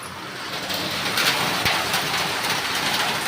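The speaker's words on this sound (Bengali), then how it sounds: "ঝমঝমিয়ে বৃষ্টি হচ্ছে দেখুন" Heavy rain pours at night outside an opened window, a dense, continuous broadband roar of water with no voices over it.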